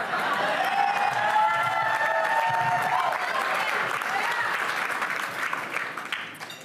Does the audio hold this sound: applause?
yes